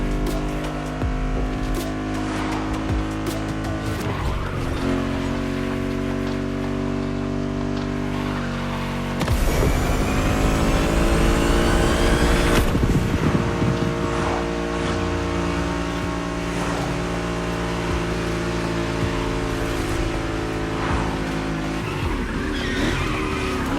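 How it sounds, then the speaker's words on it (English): A BMW M5 Drift Edition in The Crew Motorfest drifts with loud, sustained tire squeal over a droning engine, the pitch rising sharply around the middle as it revs hard, then settling back into a long continuous slide. "Today, it's going to be the M5 Drift Edition for you."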